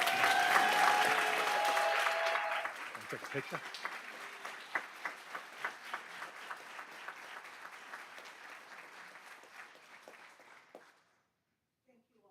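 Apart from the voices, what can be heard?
audience applause for Mary Bolo at school board meeting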